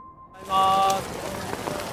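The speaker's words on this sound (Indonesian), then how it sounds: "Pagi itu hujan deras" Heavy morning rain comes in after a brief quiet moment, then settles into a dense, steady hiss of falling water that runs on without a break.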